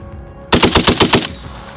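An M2A1 .50-caliber machine gun fires a short burst of about eight rapid heavy shots, very loud and close, cutting off sharply before fading out.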